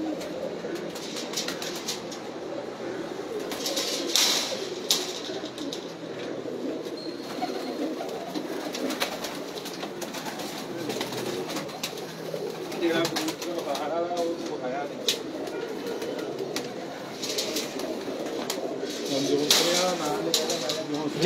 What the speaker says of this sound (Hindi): बड़े अच्छे कबूतर है